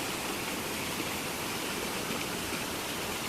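Rainwater from village fields after heavy rain flows and collects as a steady, dense rushing of water, loud and continuous with no voices.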